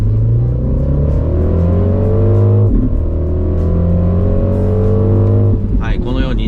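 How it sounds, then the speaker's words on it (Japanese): MINI Countryman JCW in boost mode accelerates hard, its engine droning loudly and rising in pitch, dipping briefly at a gear change and climbing again, heard from inside the cabin. "このように超加速が使えるというね、ブーストモードがあります"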